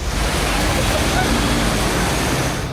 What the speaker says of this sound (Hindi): बाढ़ के पानी की इतनी तेज रफ्तार और उसका शोर सुनकर हर कोई डर गया।